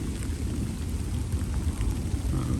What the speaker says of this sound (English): some well-needed rain is falling